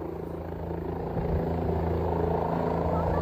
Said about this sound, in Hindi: देखिए, हेलीकॉप्टर से लोगों को एयरलिफ्ट किया जा रहा है।